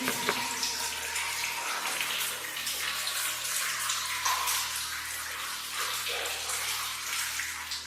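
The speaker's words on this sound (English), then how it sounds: "You see the water's shunted off to the side here and is flowing out, which is what you want." Water rushing out through a drainage channel in an old mine, a steady, close, full-bodied gushing roar that continues without a break.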